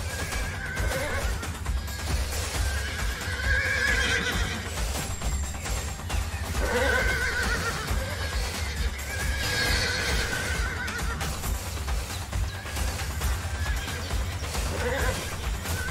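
Horses in the video game Animal Revolt Battle Simulator neigh and whinny repeatedly over a dense, continuous battle din with clip-clop hooves, loud and close throughout.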